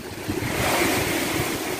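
Strong typhoon wind in Quinapondan, Eastern Samar roars continuously, buffeting the microphone with a broad, noisy rush that swells and eases slightly; no voices are heard.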